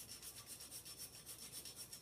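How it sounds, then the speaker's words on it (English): A microplane grater working fresh, rapid rhythmic rasping strokes, about six per second, faint and close, with no talking. "And I like to just grate it fresh."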